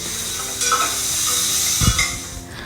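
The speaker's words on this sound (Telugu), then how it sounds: "ఇప్పుడు వేయించుకున్న ఈ దొండకాయలు కూడా వేసేసుకొని ఒకసారి బాగా కలుపుకోండి" Fried ivy gourd (tindora) is stirred in a hot pan, with a continuous oily sizzle, a short scraping stroke of the spoon, and a brief clunk near the end.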